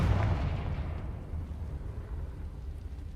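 A Confringo fire spell blast in the Hogwarts Legacy video game lands as a loud, deep explosive boom that rolls into a sustained low rumble lasting several seconds, heard alone with no talking.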